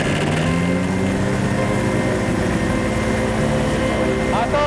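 An aircraft engine drones steadily while taxiing as the throttle is eased up, a continuous buzzing hum with people talking over it.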